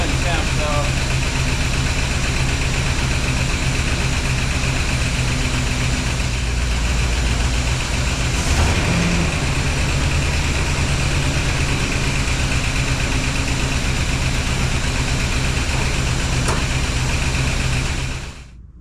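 A 1976 Pontiac Firebird's 350 V8, freshly resealed and just started for the first time, idles steadily and loudly with a constant low rumble and vibration, and someone talks over it.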